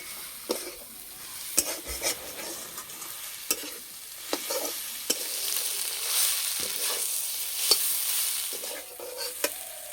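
Jute leaves frying with garlic in a pan, stirred slowly over the heat: a steady sizzle runs throughout, broken by sharp clicks and scrapes of the spoon against the pan. No voices.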